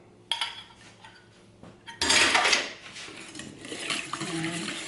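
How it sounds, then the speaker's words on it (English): A whisk stirs 2% cottage cheese into a jellied salad mixture in a bowl, giving clinking metal-on-bowl taps and then a burst of brisk, rattling whisking. No voices. "Give that a good whisk"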